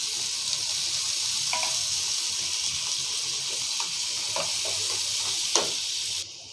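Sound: onions frying in pan for arbi curry

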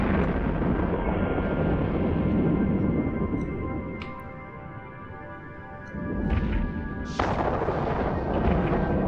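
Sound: gunfire in a space video game

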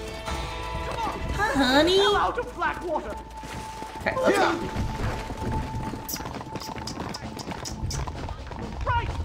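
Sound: horses galloping in Red Dead Redemption, video game

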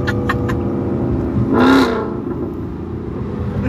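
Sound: Ford Mustang engine revving

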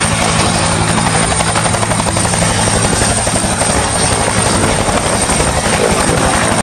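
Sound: helicopter

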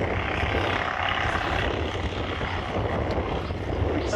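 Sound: propeller aircraft lining up at an airshow

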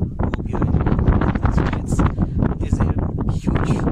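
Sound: huge wind gust blowing on the microphone

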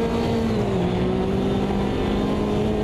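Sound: Porsche race car engine in Automobilista 2 video game

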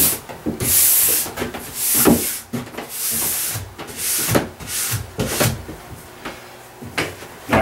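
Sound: horsehair brush scrubbing ski base structure

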